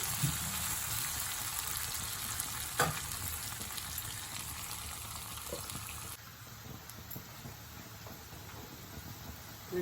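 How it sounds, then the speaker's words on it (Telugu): Potatoes fry in a pan over a high flame in a steady, close sizzle. A brief sharp clink lands partway through, and the level drops slightly after six seconds with no speech. "గోల్డెన్ బ్రౌన్ వచ్చే వరకు వేయించుకోవాలి"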